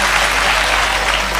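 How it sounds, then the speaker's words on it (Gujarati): Steady, dense applause from an audience at a live Gujarati comedy dayro, continuous and loud throughout with no gaps. "તાળીઓ પાડો, તાળીઓ પાડો"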